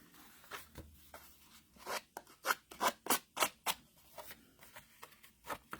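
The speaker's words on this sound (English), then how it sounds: "I'm gonna cut a little bit here." Scissors cut through paper in a quick series of crisp, close snips, about a dozen sharp rhythmic cuts clustered in the middle, with quiet rustling between them.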